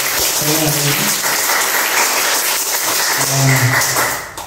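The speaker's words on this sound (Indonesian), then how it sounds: "Beri tepuk tangan kepada Mas Arif" Audience clapping for a guest speaker at a property digital-marketing talk, a steady broadband patter lasting the whole stretch with brief tonal voices or music cutting through near the start and end.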